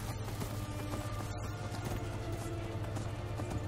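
A horse gallops in the Skyrim video game, rapid steady hoof clip-clops over a dense, loud bed of game music and ambience.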